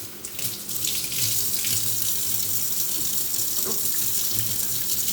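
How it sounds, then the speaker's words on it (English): A kitchen water tap runs steadily into a sink for hands to be washed, a continuous close splashing hiss with no voices over it. "let me wash my hands"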